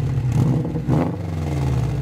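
A 4-cylinder tuner car engine revving, the exhaust gurgling and rumbling steadily and loud at close range, with a faint clatter that may be backfiring.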